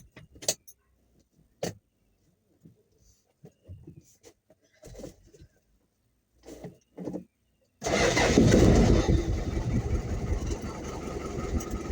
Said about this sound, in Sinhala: මම ලෝරි ස්ටාර්ට් කරලා තියෙන්නේ